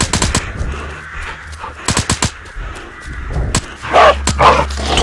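Rapid bursts of loud gunfire crack in quick volleys in the iOS game Into the Dead, then pause, followed by a rough growling, barking snarl close by.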